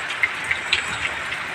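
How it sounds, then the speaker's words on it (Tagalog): Rain falls on a roof under construction, a soft steady patter with a few sharper drops tapping out clearly against the wash. "Ulan na."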